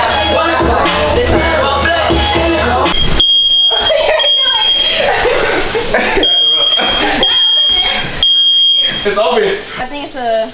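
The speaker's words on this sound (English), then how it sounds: "So yeah, excuse the fire alarm." A smoke alarm sounds repeated high-pitched beeps in a kitchen while shrimp is being cooked, loud and close, starting a few seconds in and cutting in and out, mixed with people talking and household clatter.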